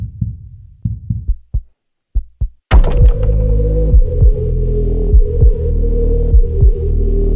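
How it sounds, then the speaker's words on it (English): A deep, booming heartbeat effect pulses steadily under a low droning musical bed in a haunting song, preceded by sparse low thumps before the full sustained texture enters. "we should maybe add something like a heartbeat to kind of emphasize the overall haunting vibe and lyrical concept of the song"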